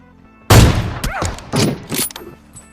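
AWM sniper rifle shots in BGMI, a mobile battle-royale game: a loud booming blast followed by several more heavy shot bursts, close and punchy, over a quiet background.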